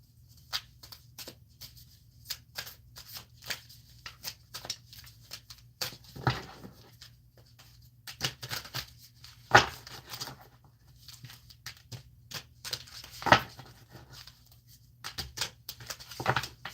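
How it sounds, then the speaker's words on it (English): Tarot cards being shuffled by hand in a quiet room, with soft riffling and flicking bursts that come in irregular clusters, separated by near-silent gaps and a low steady hum beneath. "I haven't pre-shuffled, so just give me a moment to do so"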